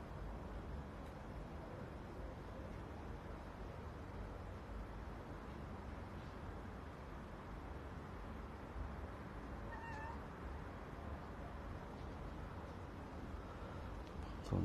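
Cats meowing softly on a hot day, a faint brief mew or two rising above a steady low background hum of traffic or fan noise, with no talking.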